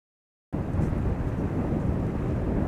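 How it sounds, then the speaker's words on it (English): Loud, steady gusty wind roars and buffets the microphone with a deep rumble, starting abruptly after a brief silence and continuing without letup. "It's kind of windy, like really gusty winds."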